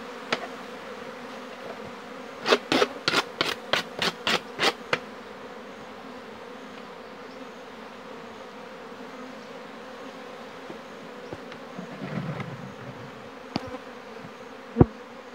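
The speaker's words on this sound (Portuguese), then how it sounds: "Bastante abelha. Colmeia populosa." Honey bees buzz in a steady low drone around a crowded Apis hive, with a burst of rapid knocks or clicks on the wooden box early on and a few scattered thumps later.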